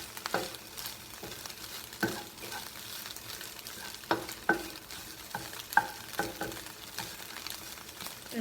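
Eggs cooking in a pan give a faint, steady sizzle, broken by occasional soft scrapes and taps of a utensil, heard close with no talking.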